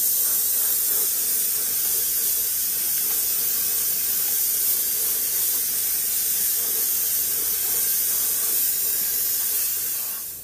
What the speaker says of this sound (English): I'm going to use my airbrush and spray the entire model